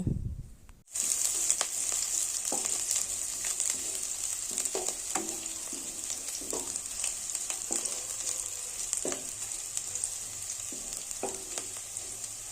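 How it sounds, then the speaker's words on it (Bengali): Chopped garlic, chili and ginger sauté in hot refined oil in a pan for a Bangladeshi-style Chinese vegetable dish. The sizzle holds steady and close, broken by intermittent scraping and stirring clicks, with no talk. "রসুন কুচি লঙ্কা কুচি ও আদা কুচি দিয়ে হালকা এগুলোকে সতে করতে থাকবো"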